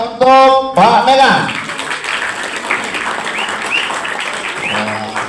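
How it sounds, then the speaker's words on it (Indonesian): Audience applause at an MPR civic outreach session in a school hall, a steady spread of clapping that follows a brief voice and whistle-like tones at the start and continues under scattered sounds. "Baik, tepukan untuk Pak Mega"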